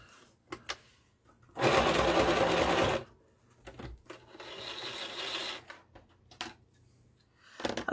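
Domestic sewing machine stitching around the edge of a small fabric pocket, running in two loud steady bursts, the first hard and fast and the second slightly softer, separated and followed by light handling clicks and rustles.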